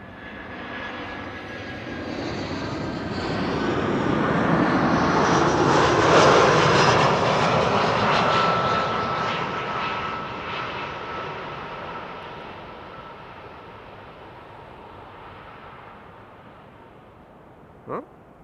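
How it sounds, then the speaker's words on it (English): An EasyJet Airbus A319 arriving from London Luton comes in to land at Schiphol Airport, its jet whine and roar rising to a loud peak as it passes, then fading into a distant rumble, with a short sharp knock at the end. "EasyJet flight 22515, arriving from London Luton, A319."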